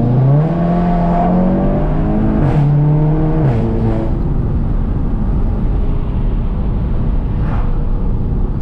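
A Volkswagen MK7 GTI fitted with an IS38-based hybrid turbo accelerates hard, its engine note climbing through gear shifts with brief breaks before settling into a steady loud roar, heard close and alone.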